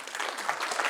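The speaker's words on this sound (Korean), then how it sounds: "박수 한번 치죠." A brief burst of clapping from a lecture audience, dense and even, heard faintly at a distance with no speech over it.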